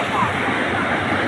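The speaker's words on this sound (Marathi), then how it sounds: "ते पाण्याचा भाव पण खूपच जोरात आहे" The Gupt Godavari river, emerging from beneath a hill and swollen high, rushes strongly in a dense, steady roar that fills the scene at close range, unbroken throughout.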